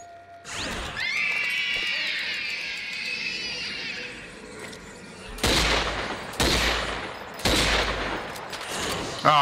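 Gunfire from shooting zombies in the video game Zombie Army 4: Dead War, a sustained burst followed by three sharp, loud shots, with in-game noise and a brief vocal sound between them.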